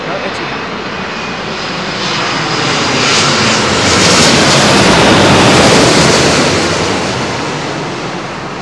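An Etihad airliner lands on runway 27L at Heathrow, a loud jet roar that swells toward the middle and eases off, with wind buffeting the microphone and a voice talking over it.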